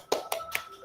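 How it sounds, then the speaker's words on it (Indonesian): A classroom group claps hands, three quick, separate claps sounding close and fairly sharp within under a second, with no speech. "Oke, tepuk tangan untuk semuanya"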